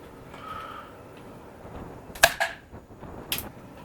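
An ASG Tac Repeater airsoft air rifle fires one sharp, close shot with a quick snap and short tail, followed by a fainter second crack about a second later against quiet room tone.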